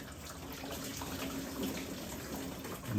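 Engine coolant pours and splashes steadily from a 1.8L 4G93 engine on a CE Lancer during a thermostat change, a continuous watery gush with faint dripping that holds at an even level for about three seconds.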